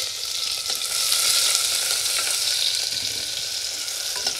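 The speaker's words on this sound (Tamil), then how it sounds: "வெங்காயத்தோட பச்சை வாசனை போனால் போதும், ரொம்ப கருப்பாக வறுக்க வேணாம்" Sliced onions fry in hot oil for green peas pulao, giving a loud, steady, close hiss and sizzle with light stirring scrapes.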